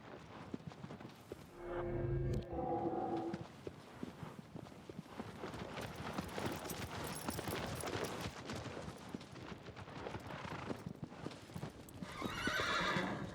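A horse whinnies loudly in Shadow of the Colossus (2018), then hooves clip-clop steadily over busy game sounds and music, with another bright whinny near the end.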